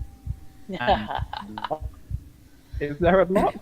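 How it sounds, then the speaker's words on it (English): A nervous heartbeat and fast-pumping blood ambience plays during a Deadlands tabletop role-playing session, low steady thumps pulsing beneath people talking. "I refuse to turn off the nervous heartbeat and blood pumping fast sounds until he recovers from being scared."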